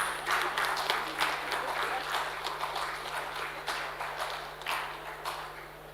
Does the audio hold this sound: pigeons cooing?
no